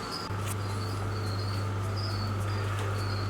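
Crickets in a breeding bin chirp in steady, repeating bursts against a constant low electrical hum, the insects close and clearly audible with no talking.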